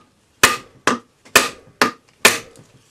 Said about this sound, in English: I'm hitting the ball with a rawhide hammer so I don't damage the ball.